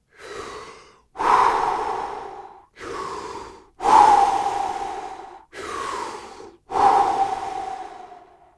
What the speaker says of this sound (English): In through the mouth and then out through the mouth, not on a time cadence. Let's just take 3 like deep, strong, full, energized breaths.